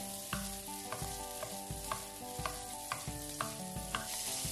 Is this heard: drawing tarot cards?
no